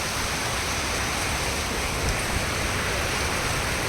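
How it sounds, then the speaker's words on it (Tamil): A fast-flowing stream near a village roars as a dense, constant rush of water, loud and close with no other sounds standing out. "தண்ணி ஃப்ளோவை பார்த்தாலே பயமாக இருக்குது"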